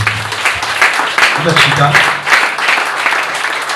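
A church congregation applauds in worship, with steady broadband clapping carrying under a voice as he speaks and preaches over it.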